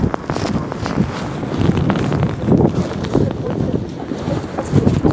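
Steady wind buffeting the microphone with low rumbling gusts, over a noisy outdoor background that sounds like being on a boat, in rain near Biwako Valley, Japan.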